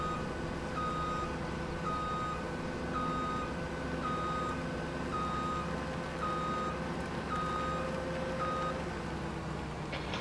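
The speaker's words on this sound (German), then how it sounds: "fahre jetzt mal hier ein wenig rückwärts." A farm vehicle in Farming Simulator 17 backs up with a steady reversing alarm, evenly spaced beeps repeating about once a second over a constant low engine drone, with no talking.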